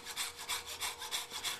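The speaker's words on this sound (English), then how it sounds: "The combination of hacksaw and coping saw works really well." A hacksaw and coping saw cut through micarta knife-scale material in a brisk, steady rhythm of rasping back-and-forth strokes, close and alone, about five or six strokes in under two seconds.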